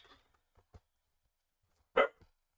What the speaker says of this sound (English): Woofs at everything that goes past.